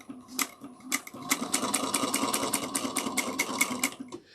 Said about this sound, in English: we're going to do that reinforced stitch right beside it. Make sure you back stitch.